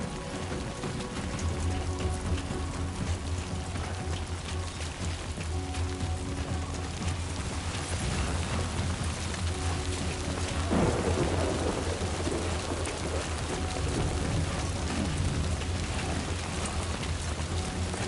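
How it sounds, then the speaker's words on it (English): Steady heavy rain with rumbling thunder from Death Stranding 2, a dense continuous downpour with a louder thunder swell about midway, no talk. "Great. Rain. Gotta move."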